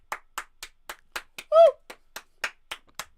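Single hand claps repeat in a steady rhythm, about a dozen sharp, close claps with a brief vocal whoop partway through.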